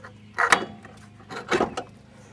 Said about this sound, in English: And now I'm pushing the axle out of the hub.